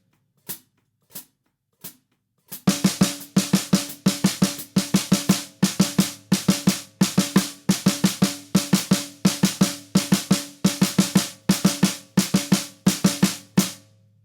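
A drum plays a fast stream of 16th notes with rests dropped in: a few sparse hits, then a steady run of sharp, close, punchy strokes with regular gaps, and no talk.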